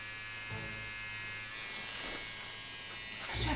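Tattoo machine needle buzzing steadily at close range, a constant electric hum that shifts slightly in pitch, with faint talk in the background.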